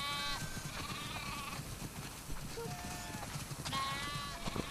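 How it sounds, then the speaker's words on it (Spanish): Sheep bleat in The Last of Us Part II, several wavering baas from different animals spread over a few seconds against a steady outdoor farm ambience, moderately near. "Ovejitas, la cena os espera en el granero, así que venga."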